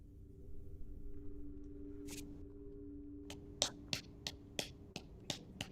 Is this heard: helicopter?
no